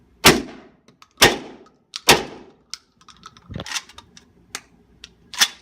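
Suppressed Cheetah 12 gauge short-barreled shotgun firing buckshot: three sharp, loud reports at roughly one-second intervals, then a pause with mechanical clatter and a fourth shot near the end, each with a brief decay.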